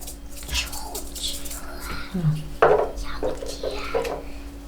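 Soft scraping and light clinking of a utensil stirring a liver pâté mixture of liver, biscuits and flour in a bowl, steady and close, with faint background hum.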